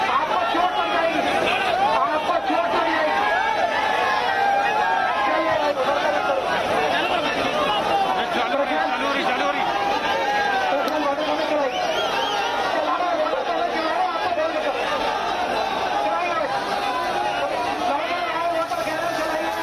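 Congress party workers crowd a Bhopal street during a protest against inflation and unemployment, with a dense, continuous babble of many voices filling the air.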